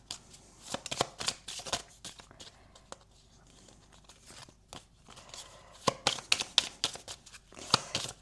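Tarot cards are shuffled and riffled close up in crisp bursts of flicking and slapping, with quieter handling in between as cards are drawn, and a French-speaking voice faintly in the background.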